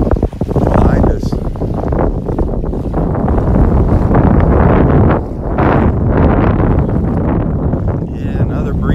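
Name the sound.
breezy wind on the beach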